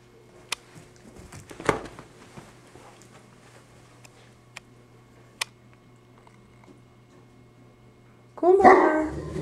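A dog gives a few sharp, scattered barks, then breaks into a louder burst of barking right at the end.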